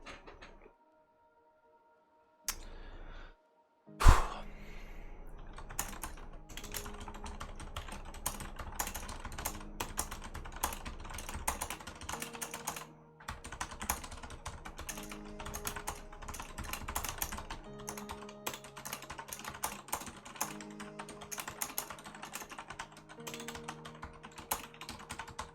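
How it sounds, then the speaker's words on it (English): Fast typing on a computer keyboard during a typing speed test, a dense steady clatter of keystrokes that runs on for many seconds, close and even, after a short quiet start. "do a typing speed test"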